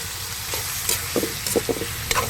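Bihon rice noodles stirred in a hot pan in a home kitchen, a steady sizzle of frying under scattered scraping and clacking strokes of the utensil, close and clear with no talking.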